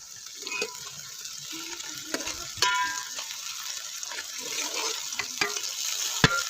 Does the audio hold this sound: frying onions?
yes